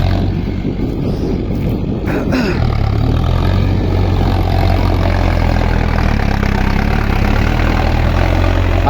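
A new Mahindra Novo 605 DI PS 4WD tractor idles at close range, its diesel engine making a loud, steady low rumble throughout with a brief knock near the start.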